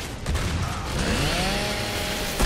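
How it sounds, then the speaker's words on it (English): A chainsaw revs hard in Gears of War 3, a loud, sustained buzzing whine amid gunfire and game noise. "Yeah, finally got the chainsaw action going."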